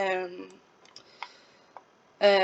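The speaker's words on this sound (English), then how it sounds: "You can probably hear my mouse moving around and clicking" A computer mouse clicks and taps softly several times during a quiet pause between a man's speech, making a few sharp, faint ticks close to the microphone.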